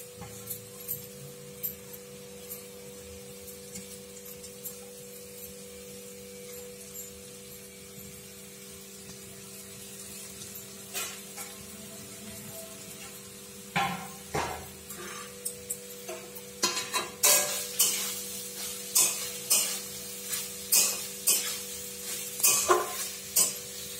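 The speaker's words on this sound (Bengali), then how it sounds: "সর্ষের তেল গরম হয়ে গিয়েছে, এই কুমড়োগুলো ওতে দেব। গ্রেট করা কুমড়োগুলো দিয়ে দিচ্ছি।" Grated pumpkin goes into hot mustard oil. A faint hiss builds into a loud, busy sizzle with rapid crackling and repeated stirring scrapes over the last several seconds.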